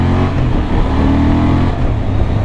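A 2023 Honda Transalp 750 motorcycle engine runs loud and close, a rough, throaty, continuous rumble with a slight rev swell and a breathy intake character, with no talking.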